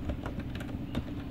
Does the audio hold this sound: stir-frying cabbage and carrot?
no